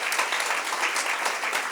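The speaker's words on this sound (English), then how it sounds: "Let's clap for him again." Audience clapping in a room, a short, dense burst of steady applause that stays level for under two seconds.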